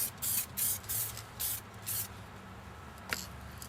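Clear coat sprays onto a restored car headlight in a series of short hissing bursts, each stroke ending cleanly, then a small click and quieter hiss at the close.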